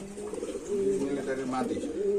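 Pigeons coo in low, throaty repeated calls, close by, with soft background murmuring.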